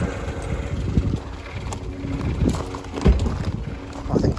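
An Austin Metro engine idles after an exhaust blow repair, a steady low rumble with uneven puffing pulses, close to the microphone and mixed with breezy noise.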